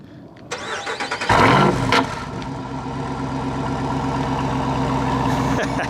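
A loud Jeep Wrangler 392 V8 engine cranks and catches with a burst of revving, then settles into a deep, steady rumbling idle.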